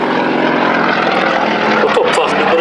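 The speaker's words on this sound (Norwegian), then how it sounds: "Det er jo en 7-sylindret stjernemotor som står igjen." A propeller airplane with a seven-cylinder radial engine flies at an airshow in Stord, a loud steady droning roar that continues without a break, with faint voices in the background.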